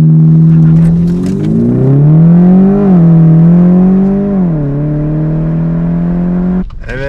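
A modified 300 hp Tofaş Doğan SLX engine revs loudly and steadily at a race launch, its pitch wavering up and down while held, before a sharp burst at the end.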